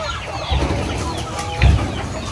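Hubbard rooster on a chicken farm clucking twice, two short low bursts about a second apart over steady farmyard background, close by.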